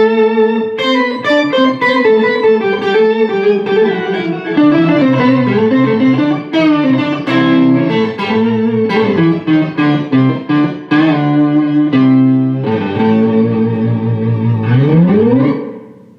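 Electric guitar through an octave pedal adding one octave below and one above, with distortion and a touch of reverb, plays a thick, buzzing run of sustained notes and slides for about sixteen seconds, loud and steady, ending on a rising bend.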